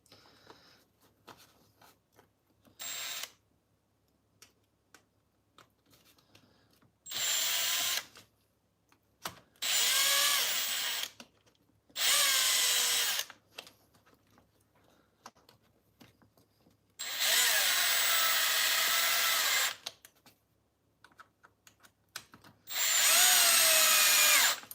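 A power drill bores through a hole with a drill bit in repeated bursts, each a loud high whine lasting one to three seconds, separated by quiet pauses, close up in a workshop setting.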